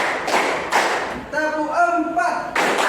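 A class of students claps together in short, loud group bursts, with a teacher's voice speaking between the rounds of clapping.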